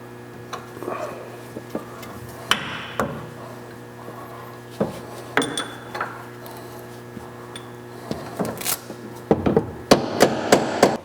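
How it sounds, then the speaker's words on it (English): Sharp metallic hammer strikes on a punch against vehicle suspension metal while installing a Firestone air bag suspension kit, irregularly spaced at first, then quicker, clustered taps toward the end, close and clear over a low steady hum. "just going to take a hammer and a punch to move this"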